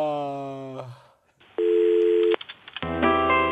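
A telephone call being placed and connected: a voice-like tonal phrase, a pause, then a long steady ring tone and clipped tone bursts, ending in a loud multi-tone signal, with no speech.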